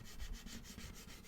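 Very faint, steady rubbing scrapes away expanding foam residue on a window frame, a soft continuous friction sound with a gentle pulsing rhythm.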